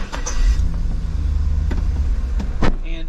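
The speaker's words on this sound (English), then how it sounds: "I'm going to go ahead and crank the truck up" An Isuzu NPR truck engine cranks and catches, settling into a low rumbling idle with a few clicks and a brief rising whine near the end.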